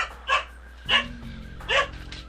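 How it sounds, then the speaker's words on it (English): A dog barks three times in the background, short sharp yaps spaced roughly evenly about three-quarters of a second apart, fairly faint, over a low steady hum. "Sorry about the dog in the background."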